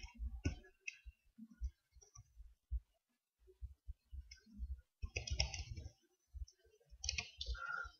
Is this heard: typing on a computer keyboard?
yes